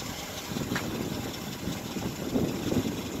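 A 1997 Oldsmobile Regency's 3800 V6 idles in a quiet, even low rumble, faint and steady for a few seconds with no voices over it.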